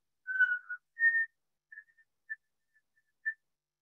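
A person whistles an imitation of a white-throated sparrow song: a few sustained clear notes followed by several brief, sparse chirps, fairly quiet and alone.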